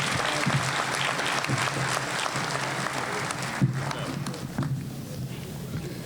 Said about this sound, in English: can we please give the graduating class of 2019 a huge round of applause for making it here?